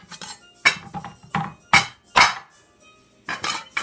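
A knife chopping through sugar cane in a kitchen, giving a series of sharp, close, irregular knocks and cracks with brief pauses between them.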